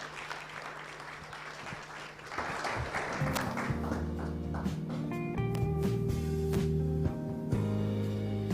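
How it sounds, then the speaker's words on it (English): Applause from an audience at a bank's sustainability report launch swells and continues steadily, with music rising underneath as the clapping goes on. "I'd like us all to give a very warm round of applause to Abdi Mohammed"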